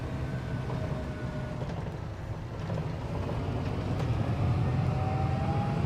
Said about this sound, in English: I love the whine of this engine as well.